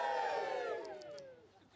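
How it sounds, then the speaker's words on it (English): Wedding guests let out a big shared cheer. The loud crowd shout rises at once, then falls away within about two seconds. "let's do a big cheer on the count of three"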